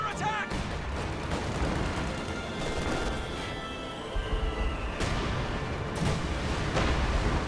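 Gunfire crackles through a real-time strategy battle as LMG Grenadiers fire on a Penal Battalion, with dense bursts and booms layered under steady commentary.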